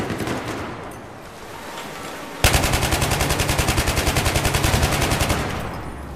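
Rapid, loud machine-gun fire in Battlefield 3, a steady stream of evenly spaced shots laid down as suppressive fire, opening sharply after a stretch of duller battle noise and continuing nearly to the end.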